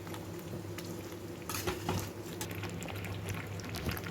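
Thick cashew and milk paste for Chicken Maharani curry fried and stirred in a pan, a steady close bubbling sizzle with scraping stirs and a few louder spatters and pan knocks, no talking.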